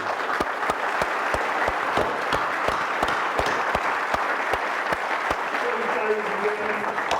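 A crowd at an Anzac Day service in Waipawa applauds three veterans aged 96, 97 and 104, with sustained, even clapping and a few sharp nearby claps standing out; faint voices murmur underneath.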